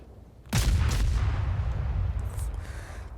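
Naval guns fire at a carrier in World of Warships, one sudden heavy boom that rolls into a long, rumbling decay, with fainter distant shots trailing behind.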